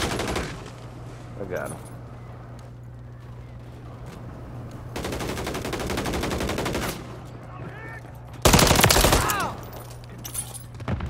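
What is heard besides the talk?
gunfire in Call of Duty video game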